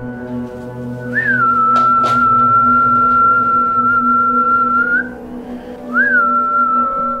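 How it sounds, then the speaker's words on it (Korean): An exorcist whistles inside a house, one long sustained steady tone that rises briefly at its start, then a second whistle begins after a short pause, loud and close over a faint low hum, with a couple of brief knocks. "휘파람 소리를 통해 집안내 영적 기운을 감지하는"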